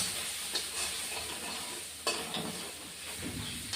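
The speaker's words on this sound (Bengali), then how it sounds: "এবার আমি বন্ধুরা কষিয়ে নিচ্ছি" Fish and vegetables sauté with Kashmiri chili powder in a pan, giving a continuous close sizzle with occasional stirring scrapes and no talk.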